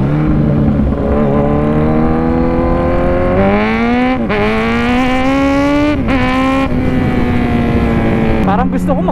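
A motorcycle engine revs loudly and close after a fresh oil change, with a steady droning pitch that climbs and dips through several throttle blips over about nine seconds.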